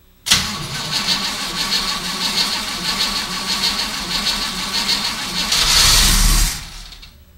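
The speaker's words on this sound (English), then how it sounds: "just crank the engine over for 10 or 15 seconds to prime the inside of the carburetor" A car engine fitted with an Edelbrock carburetor cranks over steadily on the starter for several seconds, loud and close, with a brief louder surge near the end before it cuts off.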